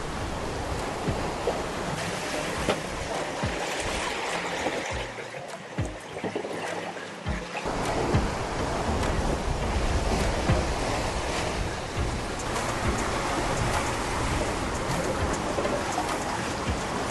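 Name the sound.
big ocean waves at sea during transatlantic crossing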